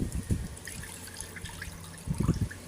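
Rice-washing water being poured off, heard as two short splashing trickles at the start and end with quiet dribbling between, close and soft.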